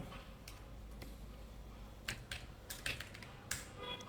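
Keys clatter on a computer keyboard while code is typed, with sparse, irregular clicks that quicken into short bursts near the end against a low steady hum.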